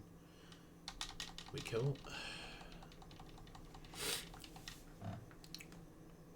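Crisp clicks from Xbox controller buttons come in quick bursts, tapping rapidly under a few short spoken words and a breathy sound.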